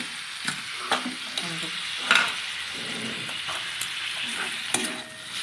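Green chilli and tomato frying in a pan for chicken biryani, a steady close sizzle with intermittent stirring scrapes and light utensil knocks, no talking.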